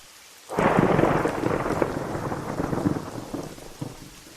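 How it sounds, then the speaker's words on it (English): Thunder breaks in suddenly after a quiet start, then rolls and rumbles over steady heavy rain, with scattered crackles and drops continuing as the storm fades slightly. "A crack of thunder rumbled outside"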